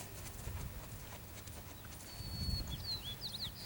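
Horse hooves cantering in a riding lesson, heard as low, dull rhythmic thuds that come in bursts, with faint high chirps in the background and no talking.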